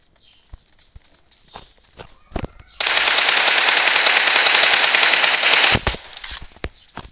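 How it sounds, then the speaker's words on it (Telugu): Automatic gunfire from a BGMI battle royale match roars in a long, loud continuous burst, preceded and followed by scattered single shots and footstep-like thuds, up close in a game mix. "నా సైడ్ కూడా గన్ సౌండ్ వస్తుంది"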